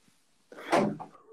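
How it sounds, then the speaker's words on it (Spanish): A door being shut indoors: a short quiet lead-in, then a single close thump with a brief rattle and a softer trailing knock. "pero te voy a cerrar la puerta."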